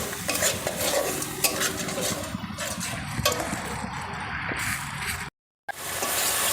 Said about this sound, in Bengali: আবারও সব একসঙ্গে কষিয়ে নেব